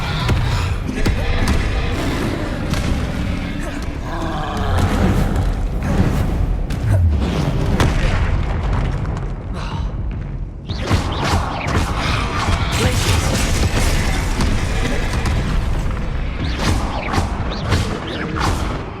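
Spell effects for Incendio and Expelliarmus in the video game Hogwarts Legacy: dense, continuous bursts of magical whooshes, crackles and impacts, loud throughout with a short dip midway before the barrage resumes.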